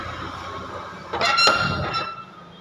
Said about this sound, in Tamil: வந்து கதவை திறக்கிறோம்